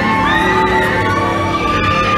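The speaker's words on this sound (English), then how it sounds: "We're right next to the pirate ship. That's why everyone's screaming." A crowd screams and shrieks on a pirate ship ride at Busch Gardens Williamsburg, high voices rising and falling continuously over a busy background din.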